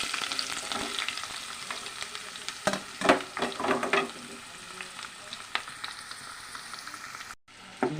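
Two onions crackle and sizzle in a pan with cumin seeds, a loud steady frying hiss with scraping stirs and bursts of spatter, cutting out briefly near the end.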